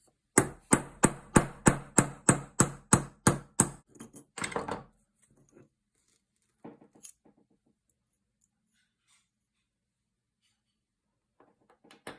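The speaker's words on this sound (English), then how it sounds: "I need to swing the hammer" About ten sharp, evenly spaced hammer blows ring out in quick succession while stripping a Beretta shotgun, followed by a brief scrape and a few faint, scattered clinks.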